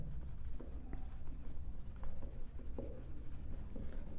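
Pen or pencil writing on paper while working a Class 9 maths problem on surface area, a soft continuous scratching with short strokes and taps, faint and close over low room hum.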